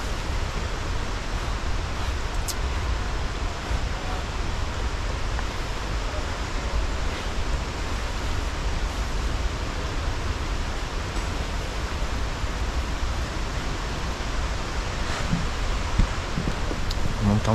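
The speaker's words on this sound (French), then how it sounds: "On entend bien les chutes d'eau." Kuang Si Falls in Laos sends up a steady, dense rush of falling water, heard from nearby as an unbroken broadband roar that holds level throughout with no clear talk over it.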